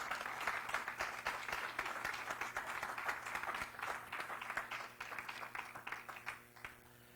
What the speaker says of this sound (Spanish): Denle un aplauso más fuerte al Señor.